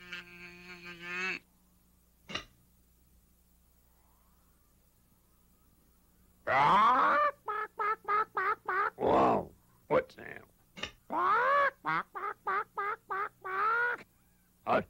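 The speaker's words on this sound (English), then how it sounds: "Chicken." A chicken clucks in a children's television show, a long run of bright, repeated squawking clucks in uneven bursts, loud and close, after an earlier tonal sound and a pause.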